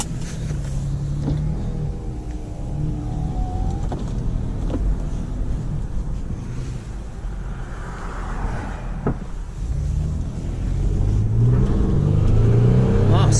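A 2005 Toyota Highlander with a 3.3 V6 engine runs with a steady close hum, then swells into louder acceleration toward the end, with faint interior noises along the way.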